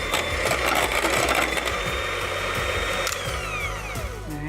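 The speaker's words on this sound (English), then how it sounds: "Just gonna mix our shortening for about 30 seconds, make it nice and fluffy before we add anything else." An electric mixer whips shortening for maple frosting, a steady close motor whir with a changing beater pitch and no talking.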